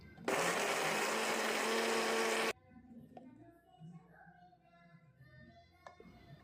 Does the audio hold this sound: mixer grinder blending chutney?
yes